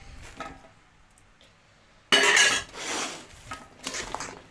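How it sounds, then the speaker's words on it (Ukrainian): Onion and carrot are stirred in a bowl, with a quiet start followed by loud scraping and clinking of a utensil against the dish in several strokes. "Перемішую це все діло. Ось так гарненько перемішую."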